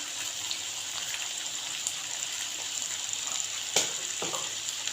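Turmeric, salt and chili flakes frying with sliced potatoes in hot oil, a steady bright sizzle throughout with a couple of brief spoon clinks near the end.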